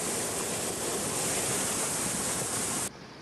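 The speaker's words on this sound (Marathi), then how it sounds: "मोंड गावामध्ये मुसळधार पाऊस बरसतोय. रस्त्याला अक्षरशः नदीचं स्वरूप आलेलं आहे." Heavy monsoon downpour in Mond village, Devgad, Sindhudurg, with floodwater rushing over a road like a river, a dense, steady roar of water that continues unbroken and then drops off abruptly near the end.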